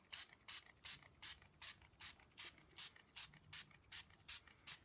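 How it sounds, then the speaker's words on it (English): A small water spray bottle mists onto a handmade card background, giving about a dozen evenly spaced hissing bursts, close and crisp, with quiet gaps between each squeeze. "Just get myself my little water spray."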